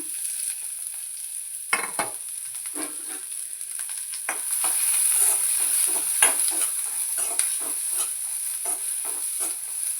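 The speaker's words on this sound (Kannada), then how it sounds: "ಎಣ್ಣೆ ಗರಮ್ ಆಗ್ಯದ ನಾವು ಉಳ್ಳಾಗಡ್ಡಿ ಹಾಕೊಳತ್ತೀನಿ ಅಂದು ಫ್ರೈ ಮಾಡ್ಕೊಳಕ್ಕ" Onions sizzling and crackling in hot oil, with a steady hiss and occasional bursts of spattering as they are stirred.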